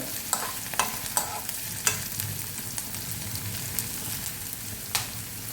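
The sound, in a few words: stir-frying green chilies, ginger and garlic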